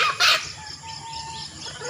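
A short, sharp squawk from a chicken, followed by soft clucking and faint bird calls in the background.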